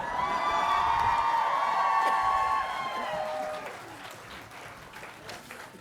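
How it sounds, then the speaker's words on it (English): Applause and cheering from a graduation ceremony crowd, loud and sustained for about three seconds before tapering off into scattered clapping and murmurs. "that's the loudest applause we've had in any ceremony since 3 o'clock this afternoon"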